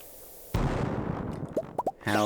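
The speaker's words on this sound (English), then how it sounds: "how an explosion does for trying to find some staircases" A bomb explosion in the mines of the video game Stardew Valley: a sudden loud blast after quiet, a rumbling decay, then a few short chirpy game effects and a tonal cue at the end.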